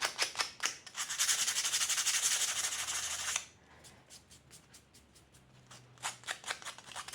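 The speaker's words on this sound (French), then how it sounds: "je vais poncer partout comme ça va faire" Sandpaper rubbed by hand over a homemade Christmas decoration of self-hardening clay, with a steady rasping stroke for a few seconds, then quiet, then short rhythmic scrubbing strokes close up.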